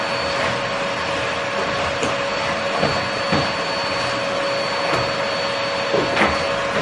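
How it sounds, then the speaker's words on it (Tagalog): A household vacuum cleaner runs loud and close with a steady motor whine and constant airflow roar, punctuated by small bumps as it is pushed across the floor. "Mag-vacuum lang ako tapos mag-sweeper."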